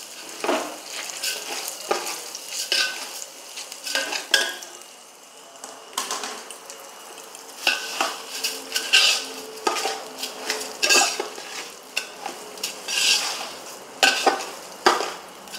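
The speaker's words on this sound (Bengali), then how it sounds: "ভালোভাবে চালটাকে নাড়াচাড়া করে নিতে হবে।" Washed rice being stirred in a pot for homestyle pulao, heard as repeated close scraping and clinking of a spoon against metal in uneven bursts over a light sizzle.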